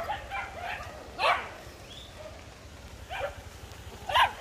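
Dogs bark in a few separate bursts on a town street in Nicoya during a bicycle ride, loud and fairly close, with steady road and wind noise underneath.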